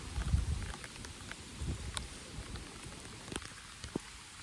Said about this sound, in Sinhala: ඔයාලට පේන්නේ නැතුනට හොඳට වහිනවා